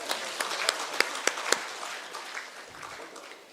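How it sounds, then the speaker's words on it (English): Applause at a foundation day celebration, a few sharp claps near the start merging into a short wash of clapping that fades within a few seconds. "Please have a big round of applause again."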